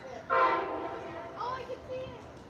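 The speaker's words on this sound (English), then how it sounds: "Here comes Amtrak PO29, the Capital Limited." Amtrak P029, the Capital Limited passenger train, approaches near Harpers Ferry's tunnel in West Virginia, sounding a loud horn blast followed by shorter, fainter horn notes over a low rumble of rolling cars.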